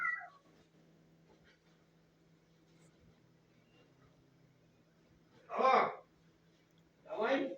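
A cat meows at feeding time, two loud drawn-out meows near the end after a quiet stretch, with a faint higher cry at the start and a low steady hum underneath.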